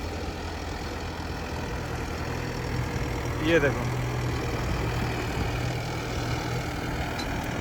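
A tractor pulling a plough through hard black soil in a field gives a steady, loud low engine drone that continues throughout, with someone speaking briefly over it.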